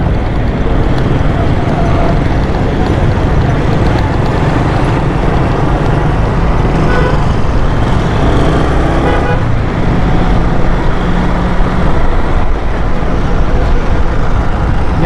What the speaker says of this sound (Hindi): यहाँ पर ट्रैफिक जाम है।